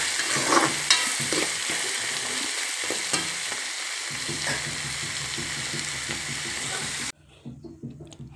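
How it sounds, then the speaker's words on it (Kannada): Chopped tomato, onion and green chilli fry steadily in hot oil, a close, continuous sizzle with occasional stirring scrapes. The sizzle drops away abruptly near the end. "ಇವಾಗ ಅದು ಟೊಮೆಟೊ, ಉಳ್ಳಾಗಡ್ಡಿ, ಮೆಣಸಿನ್ಕಾಯಿ ಅದೆಲ್ಲ ಚೆನ್ನಾಗಿ ಎಣ್ಣೆಯಲ್ಲಿ ಫ್ರೈ ಆಗಿತ್ತು"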